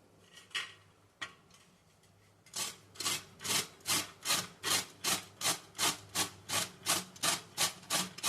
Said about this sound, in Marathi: हा मी आता किसणीने किसून घेते.